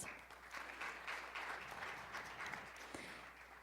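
Steady applause from a crowd, a dense wash of clapping that holds at an even level throughout, heard from a moderate distance.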